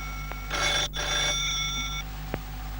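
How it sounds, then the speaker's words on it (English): A telephone rings indoors, a bright electronic ringing burst that repeats briefly and then stops, fairly close over a steady low hum. "Answer the phone"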